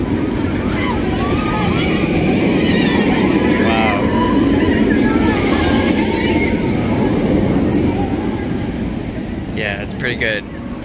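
VelociCoaster roller coaster roars past with a loud, sustained rumble of wheels on track, joined by crowd screams and talking nearby.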